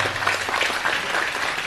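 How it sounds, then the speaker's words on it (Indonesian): Brief clapping from a crowd at a gathering with Cak Nun, a steady patter of hands heard alone for a short moment. "Nah, tepuk tangan."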